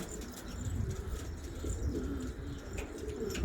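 Pigeons coo softly and repeatedly among Elvan-type show pigeons, including a red-backed mirrored bird, over a steady low rumble of background noise, with no one speaking.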